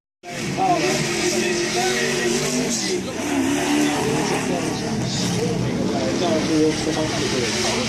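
A Chevron race car roars along the track at the 2015 Pageant of Power, its engine a loud, sustained drone passing close by while a commentator talks over it.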